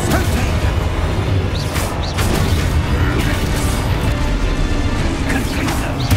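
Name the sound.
Expulso spell explosion in video game Hogwarts Legacy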